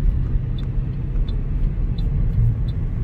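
Car driving along a bypass road in the Bolshenarym area of East Kazakhstan, heading toward Katon-Karagay: a steady low engine and road rumble, continuous and fairly loud, with faint periodic ticks on top and no talk.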